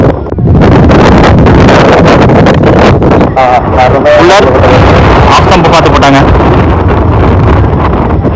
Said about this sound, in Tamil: நல்ல விண்டு வேற இருக்கு